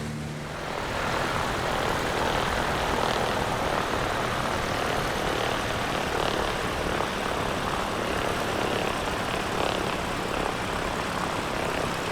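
A PA-38 Tomahawk's propeller engine climbs steadily in X-Plane 11, a loud continuous droning roar with a whining buzz that holds unchanged from start to finish, with no voices.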